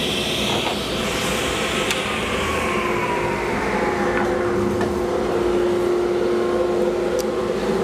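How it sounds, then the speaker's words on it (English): A shop vacuum runs in a woodworking shop during a shooting board build, a loud continuous motor whine and airflow roar holding steady throughout, with a few faint knocks of wood being pushed through. "Turn on my vacuum."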